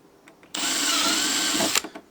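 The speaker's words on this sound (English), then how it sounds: "we're going to pre-drill the plastic, and then all this is going to be doing is drilling into the metal" A power drill whirs loudly for over a second as it bores through plastic, stopping abruptly, with faint clicks before and after.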